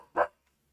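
A single dog bark from another room, one short loud burst lasting about a fifth of a second, followed by near silence.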